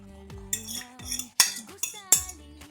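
A utensil stirs egg and pecorino sauce into carbonara in a pan with about four rhythmic, fairly close scraping strokes, each with a bright clink and ringing tail.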